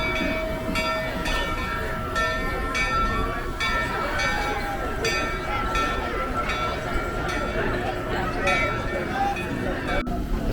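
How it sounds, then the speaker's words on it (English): A park train circles Knott's Berry Farm, its bell ringing in steady repeated strokes over rumbling rail noise, with crowd chatter and voices throughout. "Here comes the choo-choo. Making its circle around Knott's Berry Farm"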